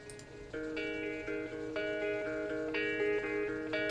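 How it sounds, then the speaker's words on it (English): Intro guitars in an electronic-leaning track: steady picked guitar notes ring in sustained, chiming layers, shifting chords every second or so with a consistent, even loudness. "this track kind of started with these guitars that you hear in the intro,"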